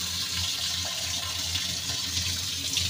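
Water running steadily from a tap into a sink while prawns are washed, a constant close splashing flow with no voices.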